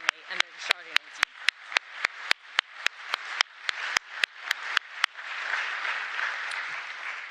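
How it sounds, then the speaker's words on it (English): Audience members at the ICN25 conference applaud, starting with a row of evenly spaced, distinct claps that swell into a fuller, continuous round of applause before fading. "please give them another round of applause to the CMA and their extraordinary team"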